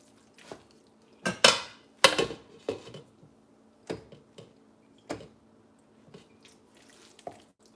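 A spoon mixes red rice in a pot, scattered clinks and scrapes against the metal at irregular intervals, a few louder knocks early on, close and otherwise quiet.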